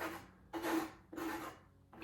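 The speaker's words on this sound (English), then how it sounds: "let's take all the paint that's on the sides that we scraped, put that towards center." Paint on a fluid art surface is scraped from the sides in toward the center, giving three rasping, rubbing strokes with short pauses between them. The strokes are close and fairly quiet.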